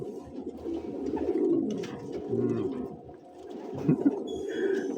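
Pigeons coo in soft, throaty, repeated rolling calls, close by, with a few faint chirps and rustles in the background.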